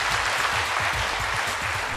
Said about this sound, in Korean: 여러분 박수 한번 쳐주십시오.